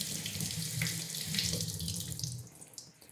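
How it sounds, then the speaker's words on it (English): Tap water gushes into a colander of freshly picked strawberries, a steady close splashing rush with small shifts as the berries are moved, no voices. "I'm going to wash them in the colander as well."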